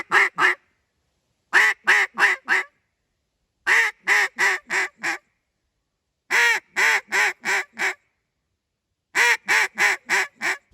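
Short bursts of duck quacks blown on a duck call come in rhythmic runs of four or five, separated by pauses, each sequence a hen cadence.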